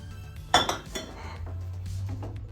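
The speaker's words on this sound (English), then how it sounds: "we're going to take our butter that we softened. We're just going to add that right in. And we're going to get all this mixed up." Softened butter being mixed into dough in a bowl, heard as a sharp clink of a utensil against the bowl followed by softer scraping and knocking, close by over a steady low hum.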